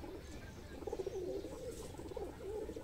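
A high-flyer racing pigeon coos quietly up close, a few low rolling coos with short gaps between them against a faint background, no voices present.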